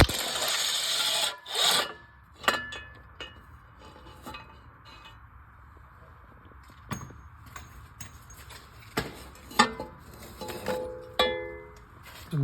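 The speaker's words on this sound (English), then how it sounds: "Next, we're going to 16 millimeter remove these 3 bracket bolts." A ratchet wrench backs out three 16 mm bracket bolts on a 2005-10 Chevrolet Cobalt during a clutch replacement, giving close, intermittent bursts of quick metallic clicking with short pauses and occasional clanks between them.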